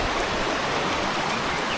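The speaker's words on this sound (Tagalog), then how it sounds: "Lakas ng tubig." Strong river current rushes steadily in a broad, continuous roar of flowing water, close and loud, with no voices over it.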